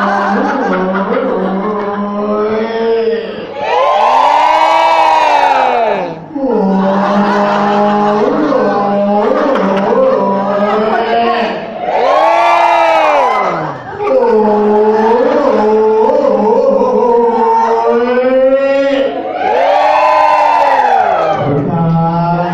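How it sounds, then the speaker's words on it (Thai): A crowd gives the Thai ceremonial three-times 'hoo' shout at an opening ceremony: loud, drawn-out swooping group cries that rise and fall, repeated in three long waves with short pauses between. "ขอเชิญคณะท่านประธานได้ทำพิธีเปิดด้วยการโห่สามลาสามครั้งสมาชิกช่วยรับด้วยนะครับ"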